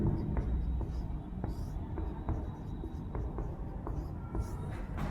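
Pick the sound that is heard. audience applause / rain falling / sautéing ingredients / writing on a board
writing on a board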